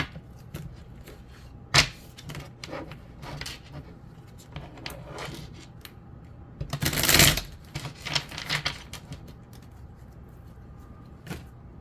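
Oracle cards shuffled and drawn by hand, with soft repeated riffling, rubbing and tapping at close range and one louder burst of shuffling in the middle, no voices.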